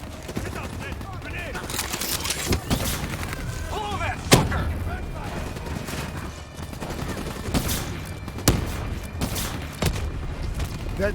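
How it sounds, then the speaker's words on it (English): Call of Duty: Black Ops 3 battle noise rumbles along, with booming blasts and scattered gunfire; one sharp, loud explosion from a planted spike stands out among the dense, echoing reports. "Detonation confirmed."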